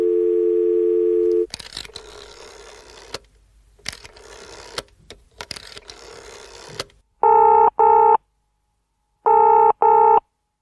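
A telephone dial tone sounds steadily at the start, then rustling handling noises, and finally two pairs of loud repeating busy or ringback tone bursts as a call is placed.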